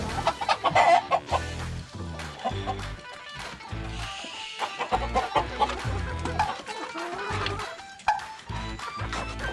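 Chickens cluck and squawk inside a chicken house, with busy, overlapping calls and bursts of close, loud clucking throughout, plus occasional knocks.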